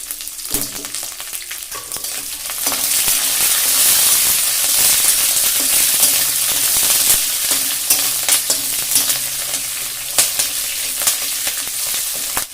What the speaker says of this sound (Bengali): এখন আমি দিয়ে দিচ্ছি 10-12টি কাঁচা লঙ্কা চেরা।